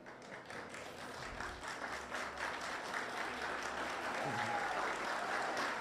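Loud, sustained applause from the audience at a construction college open day and STEAM lab launch, steady dense clapping throughout.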